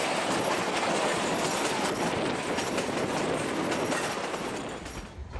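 The historic Durango to Silverton train rolls steadily at low speed, a dense, loud rumble of wheels on track with faint clickety-clack and squeal, easing off slightly toward the end.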